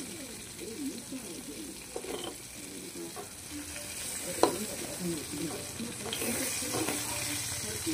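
Green chillies sizzle and crackle in hot oil for ridge gourd peel chutney, a steady fizzing bed with small pops and a sharp clack of a utensil against the pan, close and moderate in level.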